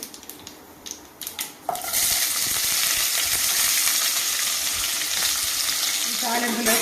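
Sliced onions hit hot oil for a tempering. A few light utensil clinks come first, then a sudden loud, dense sizzle that holds steady, with a brief scrape of stirring near the end.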